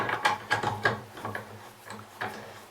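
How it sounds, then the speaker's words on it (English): A ratcheting wrench tightening a bolt into the underside of a chair, a series of quick metallic clicks in short bursts, close and clear, with no talking. "Spin it in with your hand, put the wrench on it."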